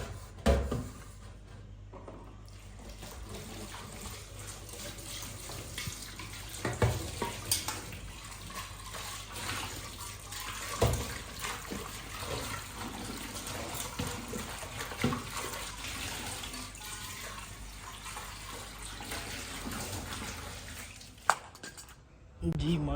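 A cooking pot used for making tea is scrubbed under running water in a village kitchen, with steady splashing, metallic clanks of the pot and occasional knocks of dishes throughout.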